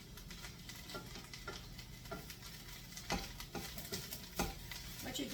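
Spinach is stirred in a hot pan to dry out its extra liquid, giving a soft steady sizzle broken by repeated scraping stirs and light clicks of the utensil against the pan.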